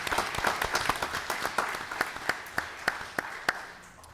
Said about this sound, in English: I want to give her a round of applause, please.